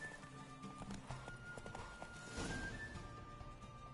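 Horse hooves clip-clop at a gallop in The Witcher 3, a rapid, fairly quiet rhythmic patter over game music tones.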